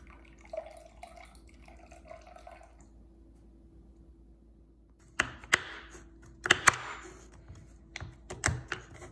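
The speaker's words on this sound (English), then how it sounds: "we're gonna have to replace that butter that evaporated out with some room temperature water" Room-temperature water poured into a pan of hot browned butter sets off a burst of sharp spattering crackles and pops, starting after a quiet stretch and recurring in several loud bursts.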